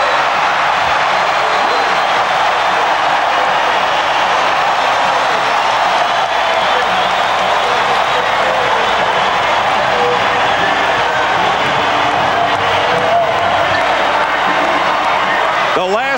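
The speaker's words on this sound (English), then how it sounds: "the Rockets gave their fans something to cheer about" A basketball arena crowd roars continuously at the Summit after the Houston Rockets win Game 5 of the 1986 NBA Finals against the Celtics, a loud, dense, sustained wash of cheering and applause with a commentator talking over it.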